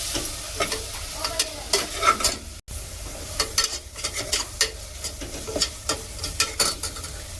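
Mutton fries with ginger garlic paste in a pan for Ambur biryani, sizzling steadily while a spoon scrapes and stirs in repeated strokes close by, with no talking.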